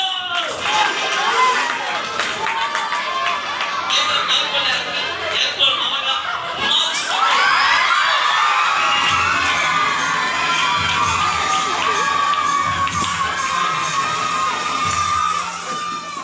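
A room full of children cheers and shouts together, loud and sustained, with excited overlapping voices throughout.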